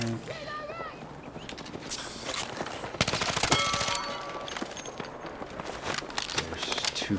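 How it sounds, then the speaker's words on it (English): Gunfire in the Battlefield 6 video game, with an enemy machine gun rattling in dense bursts amid other shots, mechanical clatter and background battle noise, loud and continuous through the whole stretch. "Enemy machine gun!"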